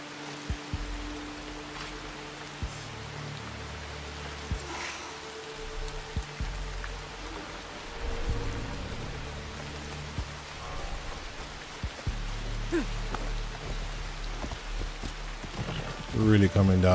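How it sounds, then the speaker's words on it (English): Heavy rain pours steadily in Assassin's Creed Shadows, a dense continuous wash with low rumbling game sounds and scattered thuds beneath, loud and unbroken throughout. "Really coming down now. Crazy how intense the rain can get on this game."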